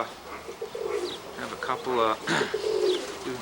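Breeding pigeons cooing inside a breeding loft, with soft, throaty, repeated coos overlapping close by and faint voices in the room.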